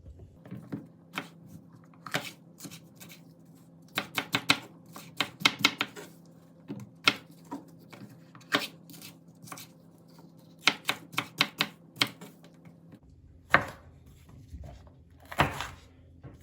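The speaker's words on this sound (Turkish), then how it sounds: "Kapya biberlerimizi de aynı şekilde çok ufak olmayacak şekilde doğruyorum." Knife chopping Kapia red peppers on a cutting board in quick bursts of sharp taps, pausing between runs, close and fairly quiet.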